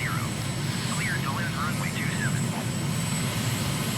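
Steady drone of a MiG jet's engines in a flight simulator game on a leisurely downwind landing approach, loud and continuous throughout, with a person talking over it.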